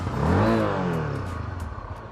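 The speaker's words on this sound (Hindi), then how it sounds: "मैंने स्टार्ट किया, ये इसका एग्जॉस्ट नॉट है, साउंड है, काफ़ी स्मूथ है और एक स्पोर्ट्स बाइक की तरह इसका साउंड रखा गया है।" A Honda CB300F motorcycle engine starts and settles into a smooth, sporty exhaust note, rising to a loud rev near the start and then holding a steady close idle rumble, with no talk.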